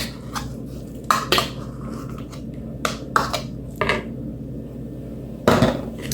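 Thawed, squeezed spinach and chopped dill are stirred into a kebab mixture in a bowl, giving scattered sharp clinks and scrapes of a utensil against the bowl amid quiet pauses, no voices.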